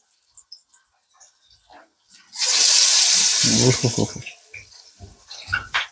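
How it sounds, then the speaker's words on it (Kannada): Marinated kebab pieces go into hot frying oil, setting off a sudden loud sizzle that swells for a couple of seconds and then settles into bubbling, with a voice talking near the end. "ಈಗ ಇವಾಗ ಬಿಡಬೇಕು ಎಣ್ಣೆಗೆ."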